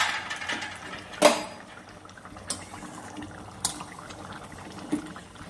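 Tengra fish curry with ridge gourd and green chillies simmers in a pot, a faint low bubbling broken by a few sharper pops and splutters, close and quiet with no voices.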